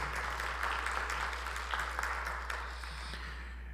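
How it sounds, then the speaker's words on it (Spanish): Seminar attendees give a guest from Bolivia's agriculture ministry a round of applause, moderate clapping from a room of people over a steady low electrical hum, tapering off at the end. "Para ella también un fuerte voto de aplausos."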